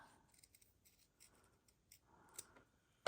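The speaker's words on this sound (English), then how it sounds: "I'm going to cut a circle out of the center of that for my mouth" Scissors snipping a circle out of fusible fabric for a raw-edge appliqué mouth, a faint run of quiet, brief cuts close by, ending in a sudden louder knock.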